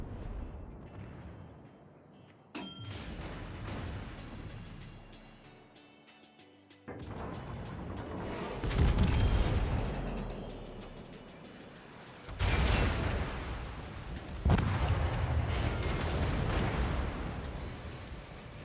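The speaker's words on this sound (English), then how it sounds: "That's a good-looking salvo out of the barrels." A French battleship's main guns fire in big booming salvos in the naval game World of Warships, Tier IX premium Jean Bart, heavy blasts rolling out and decaying, several loud volleys spaced seconds apart.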